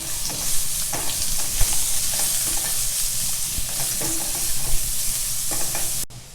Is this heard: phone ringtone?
no